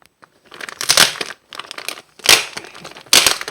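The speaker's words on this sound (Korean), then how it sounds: "한번 뜯어볼게요." A plastic package of Japanese doilies is torn and crinkled open in three loud, close bursts of rustling and ripping, separated by short pauses.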